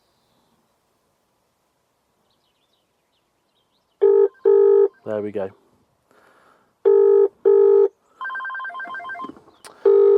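Car phone ringing after a number is dialled in a car-phone installation: two pairs of loud electronic ring bursts, then a rapid warbling ring and a click as it is answered, with someone speaking briefly between rings.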